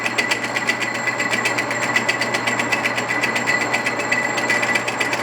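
A tube notching machine cuts into a metal tube, giving a steady, fast rhythmic chatter of cutter teeth over a constant motor hum, close and continuous with no voices.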